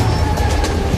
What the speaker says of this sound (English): The train is traveling at more than 160 kilometers an hour.